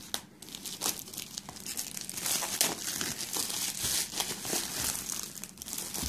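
Plastic wrap is peeled and crinkled off a refurbished silver-and-white 32 GB Wi-Fi iPad Mini 2, a steady close crackling and tearing that runs for about six seconds with no talking.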